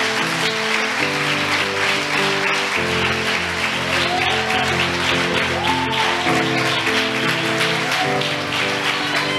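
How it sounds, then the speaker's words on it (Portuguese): A church congregation applauds steadily throughout a worship service, a dense wash of clapping mixed with sustained keyboard or organ music. "Aplauda o Senhor Jesus."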